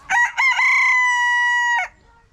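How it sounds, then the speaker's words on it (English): Silkie chicken, thought to be a hen, crowing nearby on a homestead: two short clipped notes followed by one long sustained crow, loud and clear with no talk over it. "there's our other little silky that's supposed to be a hen. Looks like that is crowing too."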